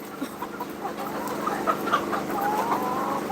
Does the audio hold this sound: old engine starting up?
no